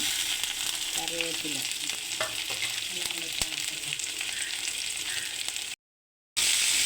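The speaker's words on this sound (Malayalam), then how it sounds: "ഒരു ചീനിച്ചട്ടിയിലേക്ക് കുറച്ച് വെളിച്ചെണ്ണ ഒഴിച്ചു കൊടുക്കാം എന്നിട്ട് അതിലേക്ക് ഈ അരിഞ്ഞു വെച്ചിരിക്കുന്നതെല്ലാം ഓരോന്നായിട്ട് ഇട്ട് കൊടുക്കാം അത് നന്നായിട്ട് വഴണ്ട് വരട്ടെ" Garlic, shallots and curry leaves fry in coconut oil in a pan, a steady, even sizzle with occasional stirring clinks, before a brief moment of silence.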